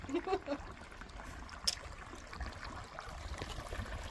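Water from a natural mountain stream and waterfall in the Wind River Range runs in a steady, soft wash, with a few faint higher trickles and no voices.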